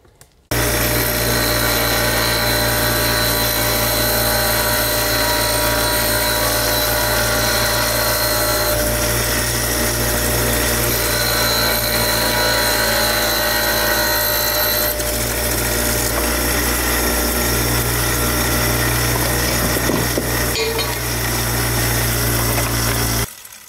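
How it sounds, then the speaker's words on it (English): An angle grinder, used in a woodworking and metalworking shop, runs at full speed and cuts into its own power cord. It gives a loud, close, unbroken whine for over twenty seconds, then cuts off abruptly at the end. "I just grindered my angle grinder cord"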